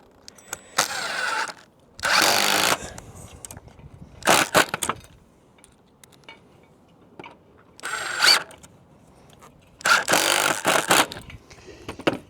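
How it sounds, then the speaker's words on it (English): A power tool drives screws through Van der Valk Ace roof hooks into a Rosemary tile roof in several loud, short whirring bursts separated by quiet pauses, with faint clicks and knocks between them. "You can then screw that down into the roof."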